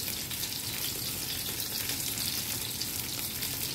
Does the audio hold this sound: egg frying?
yes